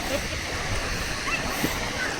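Surf on Machilipatnam beach in Andhra Pradesh washes up the sand in a steady close hiss and splash, with a person speaking over the water.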